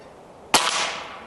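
A single sharp crack from a .22 caliber Umarex Iconix airgun fired offhand at a 25-yard target, with a short hissing decay and no voices.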